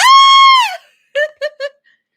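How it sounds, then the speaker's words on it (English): A high, piercing scream of a girl sustained for most of a second, followed by three short breathy shrieks, loud and close with silence between them. "Screaming like a preteen girl."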